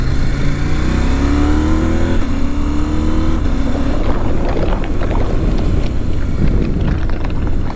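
A KTM 790 Adventure motorcycle ridden off-road, its engine droning and revving steadily under heavy wind buffeting, with gravel clatter and bumps growing busier toward the end.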